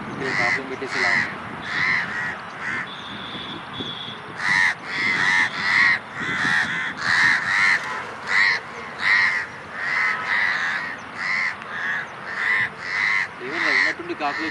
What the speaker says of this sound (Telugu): ఏమన్నా ఉన్నట్టుండి కాకులు వచ్చినాయి.